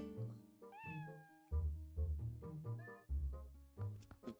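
Several cat meows from the video game The Legend of Zelda: Twilight Princess, a series of clear, tonal calls in close succession, loud and near with no talking over them.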